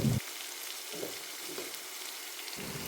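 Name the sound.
curry leaves and turmeric frying in oil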